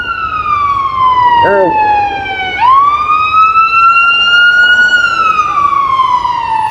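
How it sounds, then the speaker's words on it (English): A loud emergency siren wails in long, slow sweeps, dipping and rising again, close by, with a brief voice and traffic rumble underneath. "That's all you hear out here is sirens."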